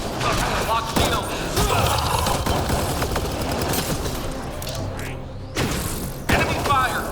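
Enemy gunfire in the Mass Effect Andromeda video game: dense, continuous bursts of shots and heavy thuds layered through the whole stretch, loud and close, with a game voice speaking over the combat.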